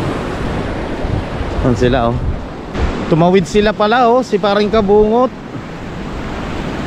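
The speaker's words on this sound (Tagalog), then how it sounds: "Dito medyo may alon pa, malalaki-laki ng konti yung alon eh." Ocean surf rolls steadily along a shore after a typhoon, with a constant wash of waves and gusting wind noise buffeting the microphone. Someone talks over it midway.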